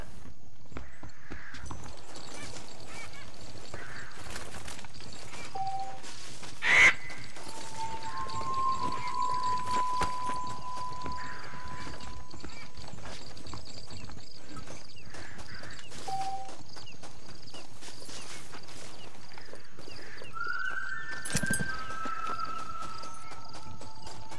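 Hoofbeats of a horse in the Red Dead Redemption video game, soft and fairly distant under quiet open-world ambience, with a few faint tonal game cues and one sharper knock along the way.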